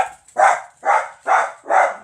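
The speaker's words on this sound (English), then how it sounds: "my dogs are gonna bark and stuff" Dogs bark close and loud, four sharp barks at an even, quick rhythm with short silent gaps between them.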